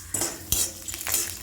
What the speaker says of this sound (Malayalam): ചീനച്ചട്ടിയിൽ 1 സ്പൂൺ എണ്ണ ഒഴിച്ചിട്ട് ഈ കടലപ്പരിപ്പ് നന്നായിട്ട് വറുത്തെടുക്കണം